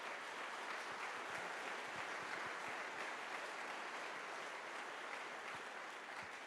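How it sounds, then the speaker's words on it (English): Audience applause at the grand opening of an agricultural innovation shop, a steady dense wash of many hands clapping for the whole stretch, moderately loud with no talk over it. "Let's give them a round of applause."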